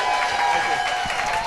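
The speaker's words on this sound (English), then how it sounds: "Bolts Nation, how about a round of applause?" A hockey arena crowd claps and cheers for the Tampa Bay Lightning goalie Andrei Vasilevskiy at a block party, a steady dense wash of applause with a voice over the top.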